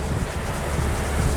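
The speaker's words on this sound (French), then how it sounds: "Il y a du vent, il fait froid." Cold wind gusts steadily outdoors in a vegetable garden during seed planting, a dense, continuous rumble buffeting the microphone with no break and no voices.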